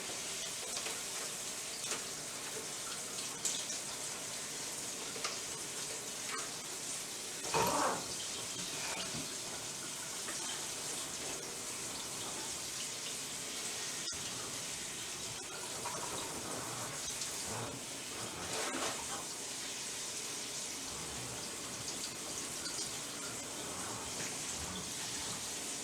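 Tap water runs steadily over noodles in a strainer while making Filipino pancit, a continuous hissing splash with a couple of louder gushes and clatters along the way, close and unbroken, no voices.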